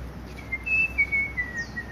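A sabiá thrush in a Brazilian backyard whistles clear, sliding melodic notes, a few short phrases fairly near against a quiet background.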